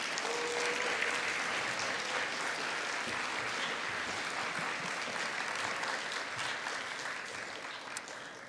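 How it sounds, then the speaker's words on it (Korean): A church youth congregation at Sunday worship applauds warmly to welcome a speaker, steady continuous clapping from a crowd heard from a moderate distance, slowly tapering toward the end. "우리 따뜻한 박수로 맞이하겠습니다"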